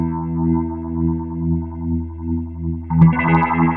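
A Sony HR-GP5 rotating-speaker stereo effect processes a sustained tone, its warbling modulation steady at first and then speeding up in a sudden ramp near the end, with brighter, choppier harmonics and no talking.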